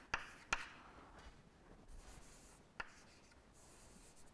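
Chalk or marker on a lecture board during a maths class, a few sharp taps followed by scratchy strokes, close and moderately quiet with no talking.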